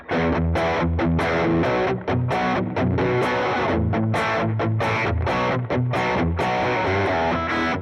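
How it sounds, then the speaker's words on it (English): A heavily distorted electric guitar plays loud, crunchy chords and riffs through channel 3 of an amp, thick and saturated with brief gaps between phrases. "this channel 3 of the amp is actually already distorted"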